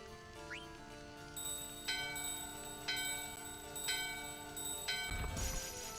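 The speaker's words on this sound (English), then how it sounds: "Go use that bell on this main door." Bell on a main door in Final Fantasy IX rings with bright, sustained chime strikes roughly once per second over a steady game music bed, fairly quiet and evenly paced.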